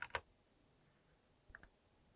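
Two faint, sharp clicks of a computer keyboard key being pressed, one at the start and another a second and a half later, over quiet room hiss.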